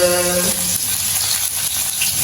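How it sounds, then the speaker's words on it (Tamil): Onions fry steadily in a hot pan for chicken curry, a continuous loud crackle, with a short tonal sound at the very start. "அடுப்பை போடுவோம் சிக்கன் கறியை காய்ச்சி போட்டு கொதிப்போம் கொதிக்கட்டும் வெங்காயத்தை போடுவோம்"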